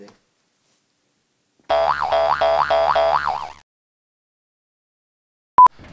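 A cartoonish boing sound effect springs up in a quick run of about five wobbling bounces, loud and alone in silence, followed later by a short sharp electronic blip.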